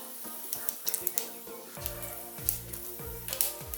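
Mustard seeds sizzle and pop in hot coconut oil in a pan: a soft, steady hiss punctuated by sharp, scattered crackles, heard up close and fairly quiet.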